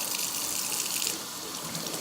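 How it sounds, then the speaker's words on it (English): Running water rinses through a makeup sponge being wrung out, a dense, continuous gushing hiss from a close tap for two seconds, with slight surges as the sponge is squeezed. "I'm going to take more water and I'm going to rinse it out and wring it."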